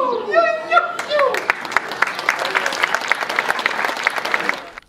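Children's choir singing ends as an audience breaks into loud, dense applause for the young singers at a choir festival in Šardice, the clapping continuing steadily until it cuts off.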